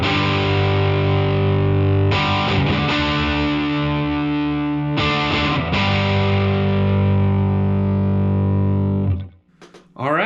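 A cheap Squier Telecaster electric guitar played on its neck pickup through distortion, sustained ringing chords with a few restrikes, loud and close, ending in a quick cutoff.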